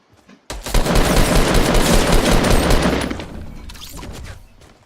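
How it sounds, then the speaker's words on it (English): Rapid automatic gunfire in the video game Fortnite bursts in loud and close, a dense crackling volley that runs for a few seconds before tapering off. "Did someone just shoot me from the right?"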